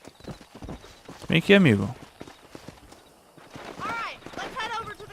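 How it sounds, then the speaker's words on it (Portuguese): Horse hooves clip-clopping in the Western video game Red Dead Redemption, a steady walking rhythm close by, heard under someone talking with bursts of louder game voices. "Vem aqui, cavalo."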